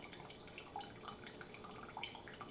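Brewed coffee drips through a titanium pour-over filter, a faint, soft, irregular patter of drops falling steadily into the vessel below with no talking.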